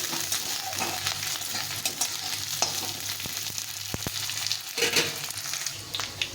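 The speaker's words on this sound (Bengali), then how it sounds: "রসুনগুলো পেঁয়াজের সঙ্গে ভালো করে ভেজে নিতে হবে, একদম লাল লাল করে ভেজে নেব" Chopped garlic and onions fry in a pan with a constant crackling sizzle, punctuated by scattered clicks and scrapes of stirring, close and steady with no talk.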